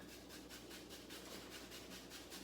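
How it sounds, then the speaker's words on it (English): Garlic cloves rasped on a microplane grater in a home kitchen, a steady scraping and rubbing texture that continues close and even throughout, with no talking. "So I have my microplane grater here and those 2 cloves of garlic that we peeled."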